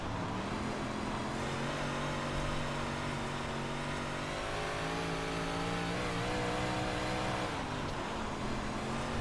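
Dirt 358 Modified engine in iRacing at Weedsport, a loud continuous rasping roar that swells and eases as the throttle is worked through the corners, with pitch shifts midway and near the end.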